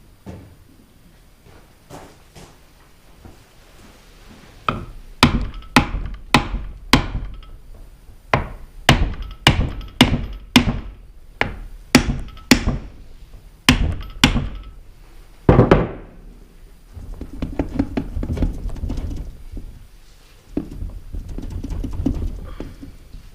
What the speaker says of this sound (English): Might have to hit it with a little hammer.